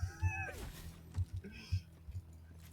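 A cat-like thunder deer creature in the video game Borderlands gives several short meows and yowls in quick succession, close and clear, with scattered game effects in between.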